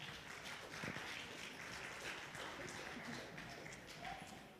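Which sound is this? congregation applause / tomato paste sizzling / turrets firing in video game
congregation applause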